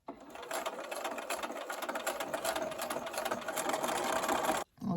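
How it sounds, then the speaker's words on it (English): A sewing machine stitches Lone Star quilt pieces together, running steadily with a dense rapid whir and clatter close by for several seconds before a brief stop near the end. "I'm letting my sewing machine do all the work here."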